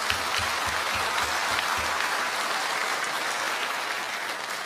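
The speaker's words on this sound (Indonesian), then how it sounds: "Tepuk tangan." Crowd claps steadily at a talk, a continuous even wash of applause from many hands, with a few low thumps early on, lasting several seconds without voices.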